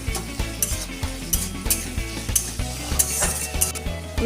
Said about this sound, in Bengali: রসুন আদা লঙ্কা বাটাটা দিয়ে দিলাম, নুন দিলাম, মশলাটা ভালো করে কষিয়ে নিচ্ছি।